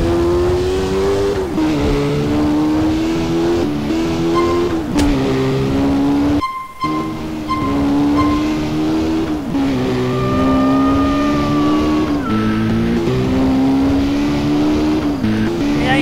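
Car engine revving loudly and continuously in GTA San Andreas, with a steady high-pitched drone that rises and falls through gear changes, a brief cut midway, and occasional tire squeal.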